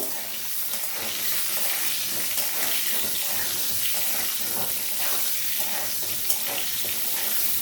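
Potatoes fry in a pan over raised gas heat, a steady bright sizzle with light stirring clatter throughout, close and moderately loud.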